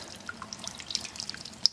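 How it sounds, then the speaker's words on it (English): Sparge water runs down onto a grain bed while brewing a chocolate sweet stout, heard as faint, close trickling and dripping with small irregular splashes and no talk. "the sparge is running, and that's just a quick shot of the water coming down on the grain bed"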